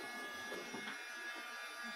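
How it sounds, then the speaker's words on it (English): An embossing heat gun held a few inches from a stamped image on transparency, melting glitter embossing powder, gives a faint, steady motorized whir with a thin whine and no talking. "So keep your embossing gun about 4 to 6 inches away from your image."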